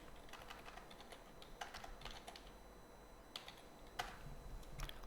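Steady clatter of computer keyboard keys as VBA code is typed, irregular close keystrokes with occasional louder taps, no voices.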